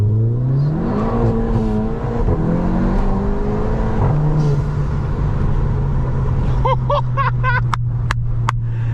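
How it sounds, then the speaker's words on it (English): A VW Golf Mk7 GTI with a Forge induction kit pulls away, its engine note climbing and dropping through loud revs up close, followed by a steady drone, with a few sharp whooshing intake and clicking sounds near the end. "this induction kit sounds different"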